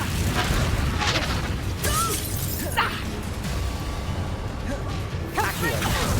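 Confringo explosion spell cast in Hogwarts Legacy, a burst of crashing, shattering blasts that recur through the clip, loud and close amid continuous battle noise.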